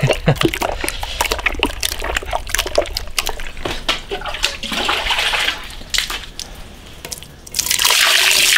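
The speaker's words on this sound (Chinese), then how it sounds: "加水给它洗干净。" Donkey intestines are scrubbed and rinsed by hand in a basin of water, with close, irregular sloshing and splashing running continuously, growing louder and steadier near the end, with no talk.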